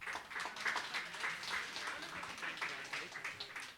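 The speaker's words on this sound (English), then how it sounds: "another round of applause for our wonderful panel of judges." Audience applause for a panel of judges at a kids' competition live stream, a modest, fairly distant patter of clapping that stays steady for a few seconds.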